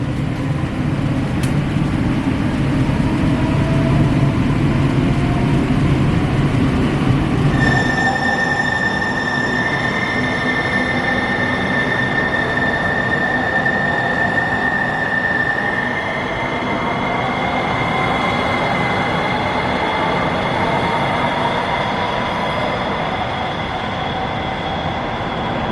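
A light rail train runs through a tunnel, its steady loud rumble overlaid by sustained high-pitched wheel squeals that ring on for many seconds.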